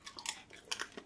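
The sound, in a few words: chewing fuchka (pani puri)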